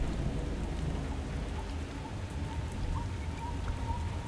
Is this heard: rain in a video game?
yes